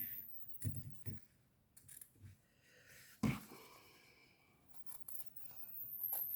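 Scissors snip through fabric while a no-sew pencil case is being made, several short crisp cuts spread irregularly across the stretch, fairly quiet and close with no talking.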